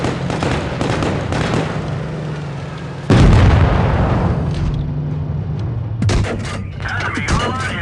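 A tank in WoT Blitz, the Ke-Ni Otsu, fires with a loud blast that cracks out sharply, followed by explosions and impact bursts over steady engine rumble, with smaller pops and crackles trailing off near the end.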